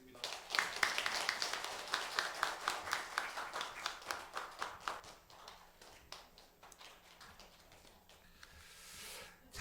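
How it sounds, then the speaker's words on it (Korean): Church congregation clapping in welcome, a rhythmic burst of claps that is strongest early, then thins and fades toward the end, with a faint voice beneath. "우리 박수로 맞이하겠습니다."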